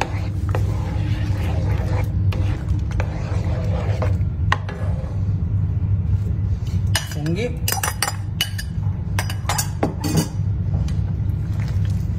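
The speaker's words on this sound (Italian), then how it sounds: "Aggiungo la pasta alla crema di zucca." Pasta goes into pumpkin cream in a pan and is stirred, with clinks of a utensil against the cookware over a low kitchen rumble and brief bits of voice.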